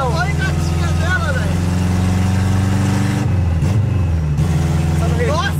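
A Chevrolet Chevette's engine idles with a steady low rumble close by, while people talk excitedly over it throughout.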